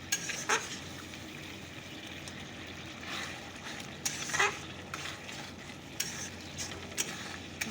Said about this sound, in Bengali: এবার মাছগুলোকে ছেড়ে দেব চলো এবার মাছগুলোকে দিয়ে দিই